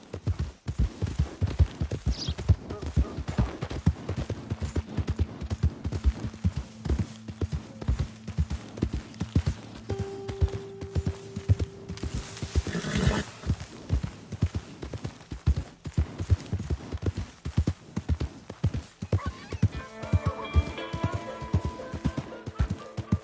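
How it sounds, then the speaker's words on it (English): Horse hooves clip-clopping in Red Dead Redemption II, a steady rhythmic stream of hoof beats over a long stretch, joined by faint game tones and music. "Here's your horse back, friend."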